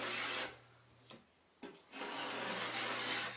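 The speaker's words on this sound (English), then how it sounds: "it's best to get most of it off the first go, like this, with a scraper" A hand scraper rasps across wood panelling, stripping old shellac and varnish in two long, loud scraping passes separated by a short pause, close and alone without talk.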